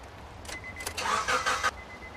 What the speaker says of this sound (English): Then you crank the engine over